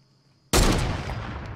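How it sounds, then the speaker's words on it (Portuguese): Sniper gunfire in the video game Fortnite: one sharp, loud shot bursts in after a quiet moment, followed by a long, rumbling decay. "O cara tá mirando de sniper ali à vontade. Tá tomando tiro ele, de cima."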